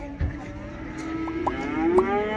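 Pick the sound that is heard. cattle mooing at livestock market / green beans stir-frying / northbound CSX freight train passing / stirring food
cattle mooing at livestock market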